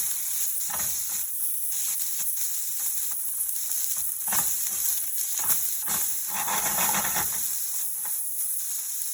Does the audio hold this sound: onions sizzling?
yes